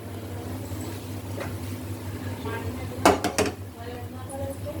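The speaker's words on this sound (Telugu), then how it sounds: "బాండి పెట్టుకుని ఆయిల్ వేసుకుందాం." A metal kadai pan is set down on a kitchen stove with a short burst of clanks, over a quiet background hum.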